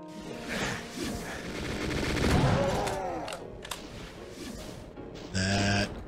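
Chaingunner enemies fire rapid bursts in a Doom map amid a chaotic mix of gunfire, crashes and monster noises, moderately loud and overlapping, ending with a sharp louder burst.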